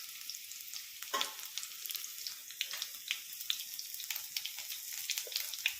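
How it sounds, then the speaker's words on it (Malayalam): Mustard seeds popping and sizzling in hot oil while tempering for rose apple pachadi, a steady frying hiss broken by scattered sharp crackles and pops, close and alone. "കടുകെല്ലാം മൂത്തു അത് പൊട്ടാൻ തുടങ്ങിയിട്ടുണ്ട്"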